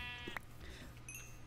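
Sheep bleating in the Minecraft video game: a short wavering bleat opens the clip, followed by a brief thud and a few fainter game tones, with no speech.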